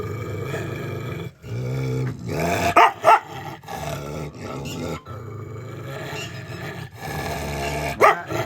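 An agitated dog barks and growls up close, a sustained rough snarl broken by sharper loud barks at irregular intervals.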